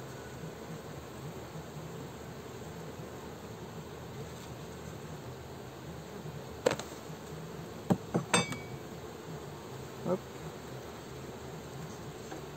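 Steady low insect hum of honeybees around a hive frame fills the background, with a few sharp clinks and taps standing out briefly near the end.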